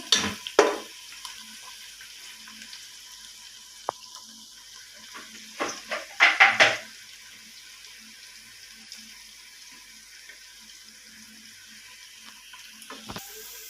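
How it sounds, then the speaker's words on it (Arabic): Chopped onions softening in oil in a pan while making stuffed eggplant, a faint steady sizzle broken by a few sharp clatters of stirring, with no one speaking. "مقطعه البصل اهوت ومحطاه في الزيت يدبل"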